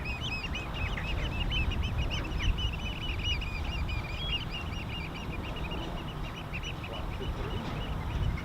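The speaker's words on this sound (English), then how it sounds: "Well, the oyster catchers." Oystercatchers calling in a busy chorus of shrill piping notes, fairly distant and repeated over a constant low background rumble at an RAF airfield.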